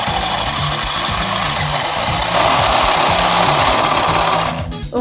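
A toy lip balm mixer machine turning ring pop gummy candy into lip balm hums loudly and steadily with a pulsing mechanical whir, close up and with no talking, then winds down and stops at the end.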